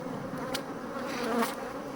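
Honey bees buzz in a close, continuous drone during a swarm inspection, the steady hum rising in spots as individual bees pass near.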